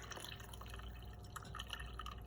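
Chicken stock straining through cheesecloth, a steady faint trickle and drip of liquid falling into a container, continuous and soft.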